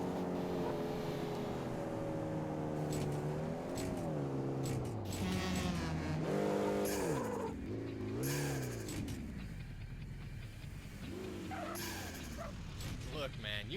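Engine of a car driving in the racing video game Street Racing Syndicate, a steady revving drone with rising and falling pitch sweeps as gears shift and the car accelerates, heard close with some speech-like voice over parts of it.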